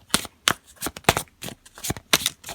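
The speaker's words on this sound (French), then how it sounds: "Je remélange le jeu" A deck of tarot cards being shuffled by hand, with six or seven crisp, quick riffling bursts at a fairly even pace, close up and with no talking.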